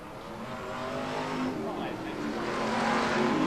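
BriSCA Formula 1 stock cars racing on the circuit at Skegness in 1994, a dense, continuous engine roar that swells slowly as the cars pass, with a commentator talking over it.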